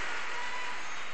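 Applause from a church congregation welcoming visiting women at a gospel service, a dense, steady patter of clapping filling the whole moment without pause.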